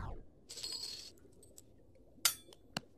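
A coin drops with a bright metallic jingle, then a couple of sharp clinks as it bounces and settles, close and clear against a quiet background.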